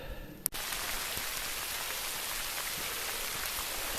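Rain patters on a surface along the Appalachian Trail, a steady bright hiss of drops that starts abruptly after a short click and continues evenly.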